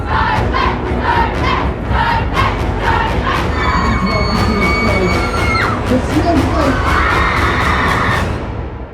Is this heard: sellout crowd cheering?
yes